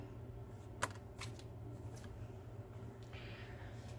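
Tarot cards are shuffled faintly in a few brief riffling bursts, one sharper snap near the start, over a steady low hum with no talking.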